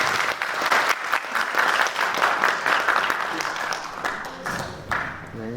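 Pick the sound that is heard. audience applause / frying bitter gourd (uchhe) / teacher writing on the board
audience applause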